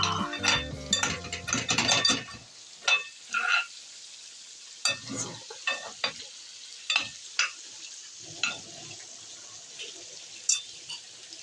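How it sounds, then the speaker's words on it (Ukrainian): Fresh homemade pork and blood sizzle and crackle in a frying pan, with some stirring and clinking at first, then steady popping and spitting of hot fat up close. "Отак шкварчить справжня домашня свіжина."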